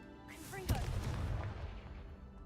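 Confringo fire spell cast in the video game Hogwarts Legacy: a rising whoosh that bursts into a single loud, booming explosion, then a rumbling tail fading over about two seconds.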